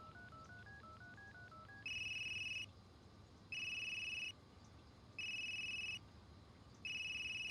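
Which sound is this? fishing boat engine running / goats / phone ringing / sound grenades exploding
phone ringing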